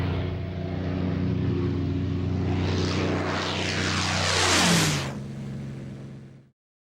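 A piston-engined aircraft powered by a Packard-built Rolls-Royce Merlin of 1,650 horsepower takes off with a loud, steady roar that swells and then sweeps past with a falling pitch before fading away.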